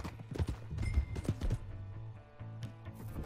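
Horse hooves clip-clop in a quick, uneven rhythm at moderate volume in Red Dead Redemption 2, with a few faint low background sounds.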